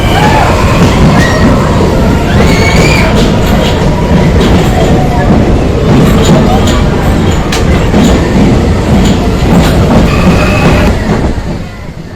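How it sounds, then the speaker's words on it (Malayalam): Loud, continuous roar and rattle of a train moving through the tunnel on the Aryankavu–Bhagavathipuram line at the Kerala–Tamil Nadu border, with clattering wheels and occasional squeals, fading slightly at the end. "തുരങ്കത്തിന്റെ ഉള്ളിൽ കൂടി ട്രെയിൻ കടന്നു പോകുമ്പോൾ"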